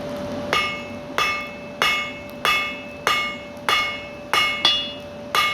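A blacksmith hammers hot steel while forging scroll tongs, striking about nine sharp ringing blows at a steady, even rhythm, each one loud and close with a brief metallic ring after it.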